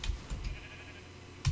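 A sheep in the Minecraft video game gives a short bleat amid keyboard tapping, with a few clicks before and after and no talk.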